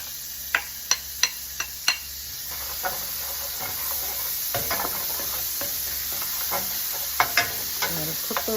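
Diced sweet onion sizzles steadily in a pan on medium-low heat, a constant hiss broken by several sharp spatula clicks and scrapes early on, then softer stirring knocks; no talking.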